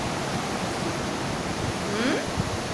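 Sea waves at Velneshwar beach on a drizzly morning, a steady broadband wash of surf that stays loud and close throughout with no clear break.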